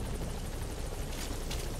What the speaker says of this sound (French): Vous voyez cet hélicoptère C'est un truc qui peut voler.